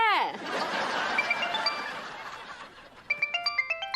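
A phone ringtone for an incoming video call chirps in a quick run of bright, repeating electronic tones at the end, following a stretch of laughter and voice.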